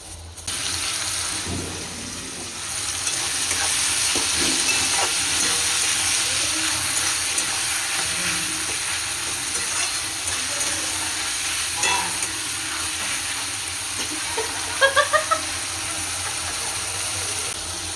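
Mutton fat frying in a pan with onion, tomato, whole garlic and salt gives a steady broad sizzle, with occasional stirring scrapes and a few brief clinks near the end.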